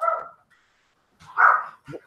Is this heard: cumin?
no